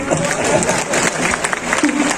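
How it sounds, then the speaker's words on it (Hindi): Audience at an Urdu poetry recital (mushaira) applauding, a steady wash of clapping and crowd noise in a large gathering, fairly loud throughout. "और अगर आप चाहें तो ताली बजा सकते हैं इस बात पर।"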